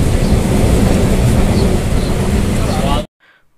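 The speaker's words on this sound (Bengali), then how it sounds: "আমাদের ট্রেন দ্রুত গতিতে ছুটে চলেছে নামখানা স্টেশনের উদ্দেশ্যে" A fast local train runs toward Namkhana station, a loud, steady, close rumble and roar that fills the whole stretch and then cuts off abruptly near the end.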